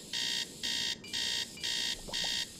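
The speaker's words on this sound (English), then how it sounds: "It sounds like an old alarm clock." An old alarm clock rings in a Nancy Drew video game, sounding as five evenly spaced, loud metallic bursts with brief pauses between them and no voices.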